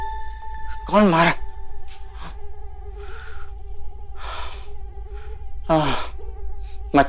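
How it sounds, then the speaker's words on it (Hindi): A mosquito whines with a thin, steady drone close to the ear. It runs under a quiet indoor scene, broken by a couple of sighing vocal sounds and soft movements. "मच्छर।"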